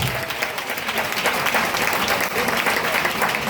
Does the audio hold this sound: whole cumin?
no